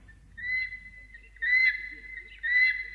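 Guineafowl call in the distance, three evenly spaced, high, whistly phrases rising over a faint low background hum, with no talk over them.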